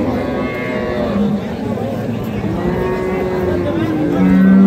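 A cow moos in long, low drawn-out calls that run nearly the whole time, rising and falling in pitch, with some background noise from a busy outdoor cattle market.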